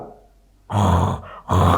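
A preacher imitates snoring with his voice: two loud, close, rasping snore-like breaths, one after a quiet pause and a second after a brief gap.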